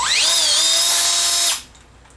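A close electric drill whines at a steady high pitch for about a second and a half, then cuts off and spins down.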